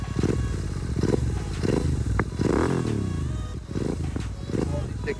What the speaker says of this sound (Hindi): अब इसको स्टार्ट करते हैं बाइक को, और ये देखो कुछ आइडल साउंड है इसका